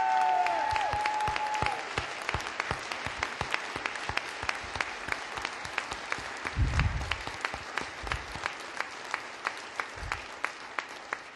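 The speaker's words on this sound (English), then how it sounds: "Please rise, Sheboygan, and give yourself a standing ovation for what you have accomplished." A standing ovation from a Sheboygan audience, starting as dense, loud applause that thins into scattered individual claps toward the end, with faint crowd murmur.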